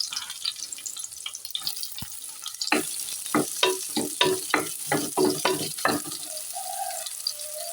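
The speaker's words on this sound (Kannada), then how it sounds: "ಈಗ ಈರುಳ್ಳಿ ಹಾಕಿಕೊಳ್ಬೇಕು" Sliced onions go into hot oil for a drumstick masala gravy and are stirred, giving a close sizzle with a quick run of rhythmic spatula scrapes against the pan, then a softer simmering hiss.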